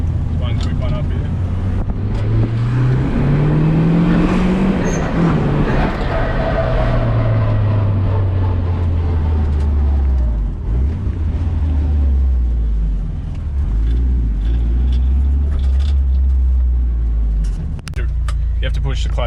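A restored, formerly abandoned show car accelerates hard in a quick pull, its engine note climbing steadily, dropping at a gear change, then climbing again. The engine is loud and close, with talk over it.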